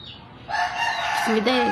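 A rooster crows once, a short loud call that starts abruptly and ends with a rising, wavering note.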